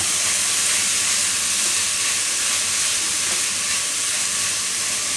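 Onion and capsicum frying over a low flame in a pan, a steady broadband hiss and sizzle running evenly throughout with no talk.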